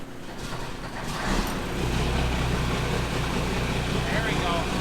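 A boat engine starting up and settling into a steady low idle drone after a brief sputter, fairly close and continuous.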